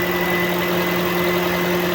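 A Toyota bB engine idles after an overheating repair, a steady smooth hum with constant tonal drone, close and even throughout with no voices.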